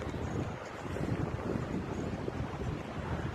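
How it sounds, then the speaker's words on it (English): Strong outdoor wind buffets the microphone in a constant, loud, rumbling roar with surging gusts and no voices. "It is crazy windy, yo."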